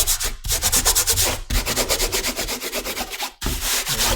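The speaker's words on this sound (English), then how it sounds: "I'll use my hand to rub some of this off with" A hand rubs dried masking fluid off watercolor paper with quick, close scrubbing strokes. The strokes come in rapid bursts separated by brief pauses, and no one talks.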